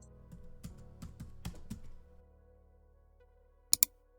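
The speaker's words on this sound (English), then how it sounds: "And type some content in it." Computer keyboard typing heard close up in a quiet room, a quick run of key taps over about two seconds, then a pause and two sharp clicks near the end.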